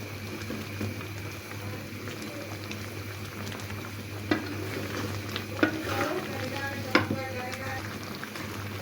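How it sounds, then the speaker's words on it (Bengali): Raw mango pickle simmering in sugar syrup, a low steady bubbling with soft occasional clinks and scrapes as it is gently stirred in the pot, close and quiet. "হালকো হাতে খুব আস্তেভাবে লেড়ে নেবেন যাতে আমটি ভেঙে না যায়"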